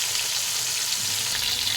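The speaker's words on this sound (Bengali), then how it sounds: "ভালো করে ভেজে নেব" Five pieces of Bhola fish, rubbed with salt and turmeric, sizzle in mustard oil in a kadai, giving a steady, dense crackling hiss that holds evenly throughout with no voices.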